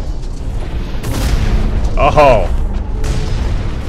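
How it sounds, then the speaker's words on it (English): Flak cannon blasts boom out in the mech shooter Hawken, a loud rolling burst of explosive thuds swelling across the middle, with a brief startled exclamation from a voice over the din. "Flak cannon."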